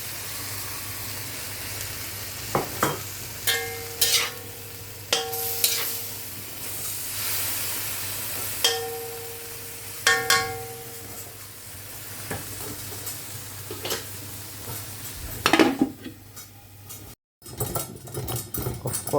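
Chop suey vegetables with chicken liver sizzle quietly in a pan, broken by a series of close scraping stirs and clatters of a utensil against the pan.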